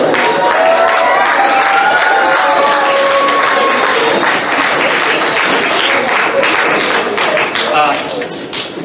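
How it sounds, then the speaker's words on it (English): Closing-ceremony audience applause for a charity, loud and dense with some cheering and taps, tapering off toward the end. "one more round of applause for your charity, guys"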